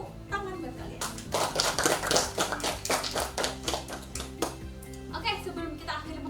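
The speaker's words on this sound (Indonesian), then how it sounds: "Beri tepuk tangan buat kalian" Students in a classroom clap their hands together, a lively burst of many hands with rapid irregular slaps, and voices are heard at the start and end.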